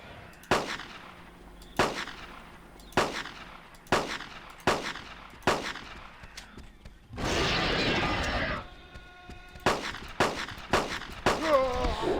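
Pistol shots ring out in the Carnivores Genesis dinosaur-hunting game, about a dozen sharp, loud cracks spaced roughly a second apart, broken midway by a burst of rushing noise before a quicker final volley.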